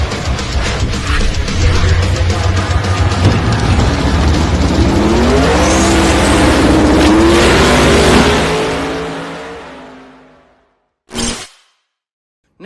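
A car with nitrous roars as it spools a 102mm turbo, a loud engine howl climbing in pitch for several seconds before cutting off and fading, then one short sharp burst near the end.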